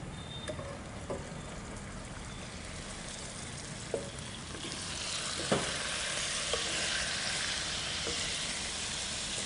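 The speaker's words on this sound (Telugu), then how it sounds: "ఇప్పుడు మనం మ్యారినేషన్ చేసి పెట్టుకున్న చికెన్ వేసేద్దాం సార్" Marinated chicken dropped onto fried onions in a hot pan, a steady frying hiss that swells louder midway, with a few sharp clinks and scrapes of stirring up close.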